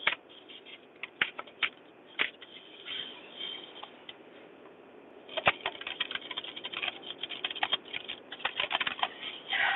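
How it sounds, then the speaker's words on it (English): Soft, rapid patter of tarot cards being shuffled, rain-like, irregular bursts that grow busier in the second half, close and fairly quiet. "When I shuffle those cards, it sounds a lot like rain."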